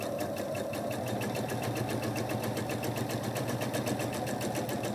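A sewing machine stitches a quarter-inch seam joining quilt block patches, a close, continuous rapid mechanical whir with an even rhythmic clatter throughout.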